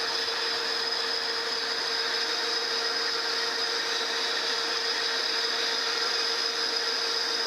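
A New Haven metal planer cuts a rough cast iron surface at a depth of about 100 thousandths. The machine keeps up a constant grinding drone with a steady high whine, and no one speaks over it.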